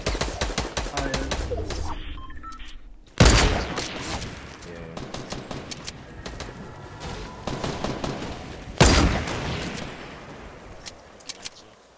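Gunfire in the video game Fortnite, with sharp, rapid bursts of shots and two loud, heavy blasts about six seconds apart. Faint talk sits in the background.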